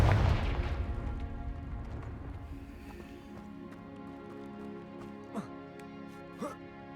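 A fiery spell explosion in Hogwarts Legacy opens with a loud, close burst that decays into a long rumbling tail under a music bed, followed by two faint, brief zapping effects later on.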